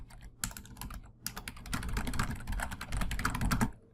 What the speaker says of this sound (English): I'm going to type in a little quick question.